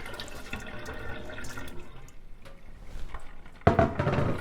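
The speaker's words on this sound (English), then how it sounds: "Now all you need to do is drain the quinoa into a fine mesh strainer." Water runs and splashes as rinsed quinoa drains through a fine mesh strainer, with a steady trickling wash that turns louder and fuller near the end.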